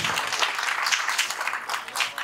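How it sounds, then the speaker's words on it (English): Audience at an Internet of Things conference applauding after a talk, a steady patter of clapping from a moderately sized room, fairly soft and even throughout. "A round of applause, yeah?"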